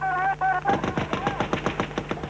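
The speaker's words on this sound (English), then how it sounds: "A loudspeaker and gunfire from the Turkish side warns them to stay where they are" A rapid burst of repeated gunshots from the Turkish side of the border rattles out in quick succession after a tonal loudspeaker sound, fairly distant and echoing.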